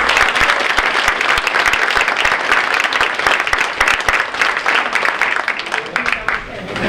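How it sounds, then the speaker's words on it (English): An audience at a school spring arts night gives a string ensemble a sustained round of applause, dense and loud clapping that carries on for several seconds before tapering slightly at the end. "Give them another round of applause"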